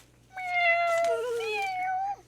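A single drawn-out cat meow, close and clear, rising then falling in pitch, lasting about two seconds over a quiet background.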